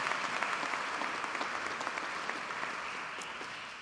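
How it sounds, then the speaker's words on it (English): Steady, full audience applause at a university presidential inauguration ceremony, a dense continuous roar of many hands clapping that holds level for several seconds. "Would everyone join me in a big Gator round of applause for our exceptional student and faculty musician one more time?"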